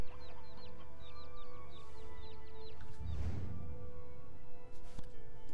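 Chickens cluck and chirp repeatedly in Black Desert Online, with a brief crash-like burst midway over steady game background ambience.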